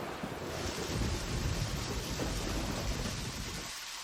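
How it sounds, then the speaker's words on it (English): Steady rain falling in the video game Deadly Premonition, a continuous broadband hiss like wind-blown water that holds evenly loud for about four seconds before easing slightly at the end. "I think it is raining."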